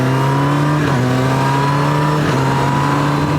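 Honda CB1000R motorcycle engine held in second gear through a hairpin bend: a loud, steady engine drone, close up, with two brief pitch dips as the revs shift, and no talking.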